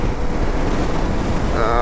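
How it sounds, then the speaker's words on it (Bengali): Wind buffets the microphone on a motorbike during a monsoon group ride from Kolkata, a loud continuous roar with no break. "ভালোই হাওয়া আছে"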